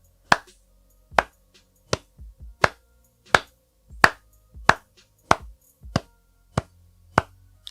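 A single person gives a slow, deliberate hand clap, about a dozen sharp claps spaced evenly under a second apart, close and loud against near silence.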